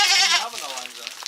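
A goat on a farm gives one wavering, nasal bleat close by, which fades into a softer trailing cry.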